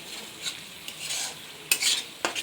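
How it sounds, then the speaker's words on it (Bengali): Cashew paste fries in desi ghee while it is stirred, giving a soft steady sizzle broken by a few louder scrapes of the spoon against the pan. "কাজু বাটাটা দিয়ে একটু ভেজে নেব।"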